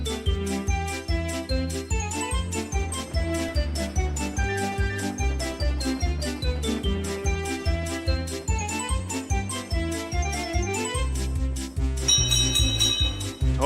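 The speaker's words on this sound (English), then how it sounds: "Toby made sure to ring his bell to the kindlies as he passed by" Toby the tram engine rings his bell, bright repeated chimes over a steady rhythmic musical backing, continuous and prominent throughout, with a brief shimmering jingle near the end.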